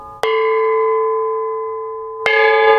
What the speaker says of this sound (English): If you hang them up, you get a traditional gong sound.